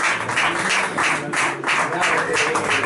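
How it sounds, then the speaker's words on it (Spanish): An audience bursts into steady, loud applause at a singer-songwriter and poetry evening, the clapping sustained throughout the short stretch without pauses. "Le damos un fuerte aplauso"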